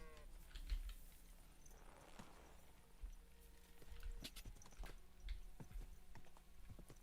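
Faint hoof clip-clops from a horse in the video game Kingdom Come: Deliverance II tap out an irregular rhythm over a low background hum, with scattered clicks in between.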